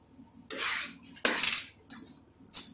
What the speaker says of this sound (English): You have to keep stirring so that it doesn't get burned.